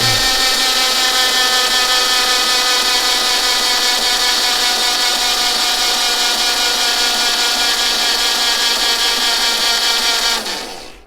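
An engine being turned over slowly by its starter during a compression test, giving a steady, loud, continuous whirring drone for about ten seconds that cuts off abruptly at the end, with no talking.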